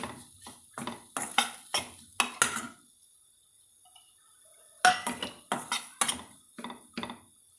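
Grated coconut is mixed into a vegetable stir-fry, a spoon scraping and tapping against the pan in quick rhythmic strokes, a pause, then another burst of stirring, close and alone.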